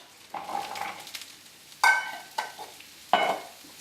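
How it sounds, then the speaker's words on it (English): Broccoli and cauliflower florets sautéing in hot oil in a skillet, a low steady sizzle with stirring, punctuated by three sharper clatters of food and utensil against the pan; no talking. "We've got some broccoli florets and a little bit of cauliflower. We're going to go right in the pan"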